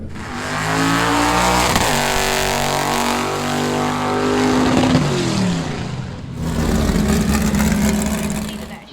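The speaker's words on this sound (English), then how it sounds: "You're going to be watching some bracket racing today here at Centerville" Bracket-racing drag cars at Centerville launch hard, engines screaming upward through the gears. One roars past, then another loud run takes over, close and continuous with no talk.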